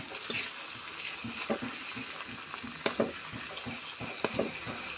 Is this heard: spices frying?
yes